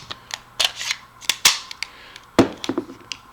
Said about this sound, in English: whenever we put the Metgar mag in, it does hold on the last round, so it does lock into place